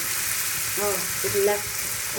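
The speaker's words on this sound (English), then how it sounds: "all these spices or all these ingredients are on the frying pan at the moment" Loud, close sizzling of spices frying in hot oil in a pan for spinach saag, with a few brief crackles and stirring sounds.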